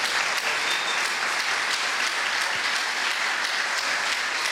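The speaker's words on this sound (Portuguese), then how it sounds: "Vamos aplaudir." A church congregation applauds steadily, a dense, even wash of many hands clapping at once, loud and continuous throughout without any voices standing out.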